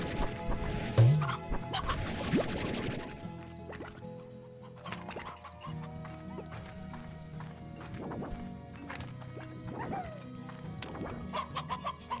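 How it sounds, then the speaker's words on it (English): Stony hens in the video game Slime Rancher, scattered clucks and short squawks over a busy background of clopping and rustling, with several overlapping calls at moderate distance. "More stony hens here than regular hens."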